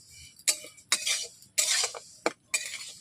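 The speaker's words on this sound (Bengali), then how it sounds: "বাকি তিলগুলোকে আমি একইভাবে ভেজে নিচ্ছি।" Sesame seeds being dry-roasted and stirred in a pan for Bengali til naru, heard as a series of five sharp scraping, rattling strokes at a steady rhythm, close and moderately loud, with no talking.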